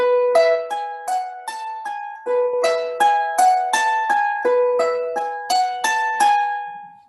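Harp plucking the La Charreada finger pattern: a steady run of bright, ringing plucked notes in repeating groups, each note decaying into the next, close and clear with no talking.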